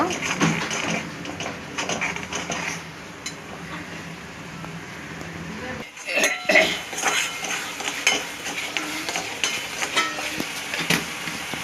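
Onion, ginger and garlic sautéing in a pan for spicy pav bhaji, a soft sizzle under repeated clinks and scrapes of a spoon stirring, with a brief pause midway before the stirring resumes.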